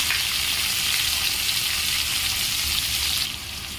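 Chopped onions hit hot oil in a pan for a vegetable curry and fry with a loud, steady sizzle close by, easing slightly quieter near the end.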